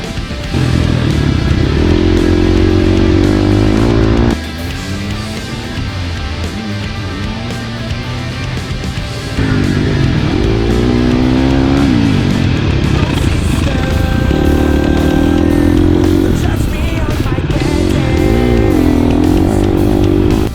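A GasGas MC250F dirt bike is ridden hard, its engine loud and near, revving up and down through gear changes with rising and falling pitch and no voices.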